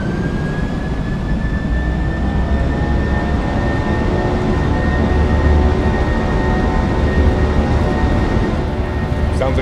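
Jet engines of a PMDG 737-800 in a flight simulator spool up to takeoff thrust, giving a loud, steady roar with a rising whine that continues without break.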